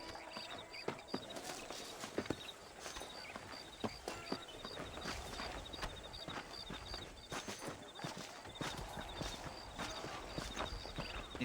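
Horse hooves clip-clop at a steady walking rhythm while riding in Red Dead Redemption, moderately close, with faint ambient background and no talk.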